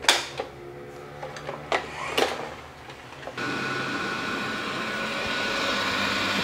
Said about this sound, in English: It's been vacuuming the same spot.